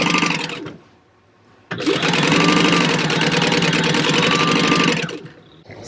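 A sewing machine top-stitches seams at stitch length 3, two loud, steady bursts of rapid mechanical whirring, a short one and then a longer run, with a quiet pause between them.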